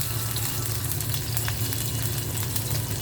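Ginger-garlic paste with chili powder and salt frying in a pan, a steady close sizzle with faint stirring scrapes running throughout, no voices.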